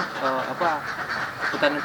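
Ducks at a duck farm in Karangtengah, several birds quacking close by in a dense, overlapping chatter of nasal calls that continues without a break.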